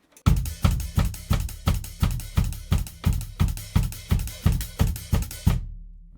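A simple drum groove: bass drum struck on every downbeat together with a closing hi-hat, about thirteen even, punchy hits in a steady four-count, played alone and up close with a short ringing tail at the end.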